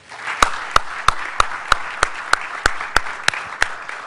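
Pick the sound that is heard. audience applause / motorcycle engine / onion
audience applause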